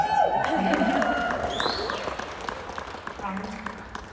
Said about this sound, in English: He deserves a cheer.